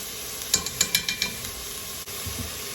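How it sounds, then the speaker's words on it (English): Three cloves of chopped garlic hit hot fat in a soup pot for tortellini soup, giving a close sizzle with a few quick clinks and stirring scrapes early on that then settle to a low hiss. "we're going to add about 3 cloves of chopped garlic"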